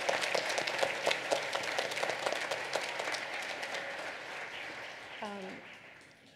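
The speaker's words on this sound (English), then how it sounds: "let's give everybody a round of applause for their hard work" A crowd at an elementary school awards ceremony applauds with steady clapping that gradually fades out, followed by a brief voice near the end.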